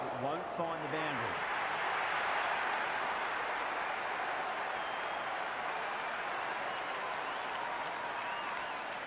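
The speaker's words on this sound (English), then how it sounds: "There's a buzz, a real buzz coming from the stands." Crowd in cricket stands applauding and buzzing, a dense, steady wash of clapping and excited murmur that fills the ground, with a brief whistle near the start.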